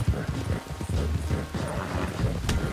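Horse hooves pound at a gallop in Red Dead Redemption 2, giving a fast, continuous drumming of low thuds with gusts of wind noise over the top.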